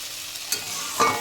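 A vegetable curry fries in a pan: a brief, close hiss with two quick stirring scrapes, the second a bit louder, and no voices.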